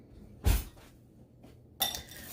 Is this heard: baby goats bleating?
no